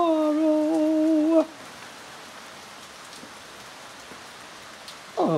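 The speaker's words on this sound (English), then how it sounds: "Please take the rain away." Steady rain hisses throughout, with a short tonal melody at the start and another at the very end breaking over the downpour.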